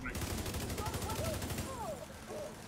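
Shooting a glowing red target in The Division 2: a rapid, even burst of automatic gunfire for about a second and a half, fairly quiet, followed by faint game ambience and brief speech.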